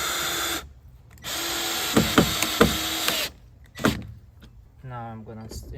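Cordless power drill driving screws into a wooden fence panel, several short whirring bursts close by with brief pauses between, and some knocking and a voice in the gaps.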